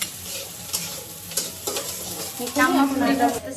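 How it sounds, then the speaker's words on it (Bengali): Puri frying in hot oil, a steady close sizzle with stirring and light clatter, growing louder and fuller toward the end, no talk. "এই যে সুন্দর করে আম্মা পুরিগুলা ভেজে নিচ্ছে,"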